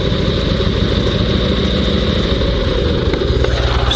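Sidecar motorcycle engine running at a steady idle just after starting, a loud continuous low rumble that holds evenly from start to finish with no pauses.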